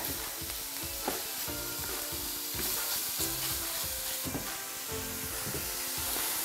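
Meat browns in a skillet for stovetop lasagna, giving a steady, loud sizzle and frying hiss with scraping stirring strokes throughout and no voices.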